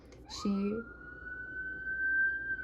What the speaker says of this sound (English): and then sirens just went off